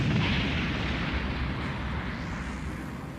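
A cartoon time bomb goes off inside a building, a dense, sustained rumbling boom with a heavy low roar that slowly fades over a few seconds, heard alone and loud.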